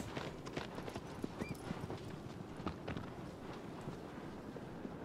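A horse's hooves clip-clop at a steady trot or gallop in Shadow of the Colossus Remastered, loud and continuous under a faint wind-like hiss, with no talking.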